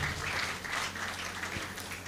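Audience applause at a university convocation ceremony in Nigeria, a steady dense clapping from a large crowd in a hall, continuous and moderately loud.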